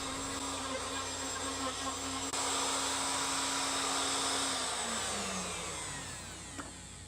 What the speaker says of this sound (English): Now once I have it roughed out with the router